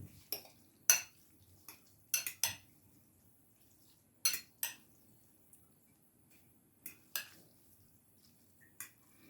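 A spoon stirs homemade ramen seasoning mix in a small bowl, giving sparse, sharp clinks and taps against the dish with quiet pauses between them.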